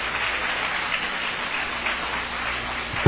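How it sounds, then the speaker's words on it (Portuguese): A church congregation applauds at a Portuguese-language service, a steady, moderately loud wash of many hands clapping together throughout, with no speech over it. "Se é para o Senhor, tem que ser mais forte, aplauso."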